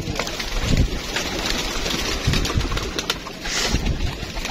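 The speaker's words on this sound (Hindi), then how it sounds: "ये कबूतर है" A caught pigeon coos in short, low throaty bursts against a steady outdoor background hum, the calls close but partly blended into the ambient noise.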